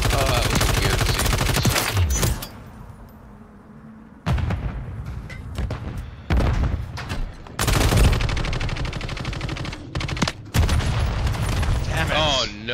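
Gunfire in the Modern Warfare 3 video game on the Terminal map, heard as loud bursts of rapid automatic fire and sharp shots separated by brief lulls, close and dense.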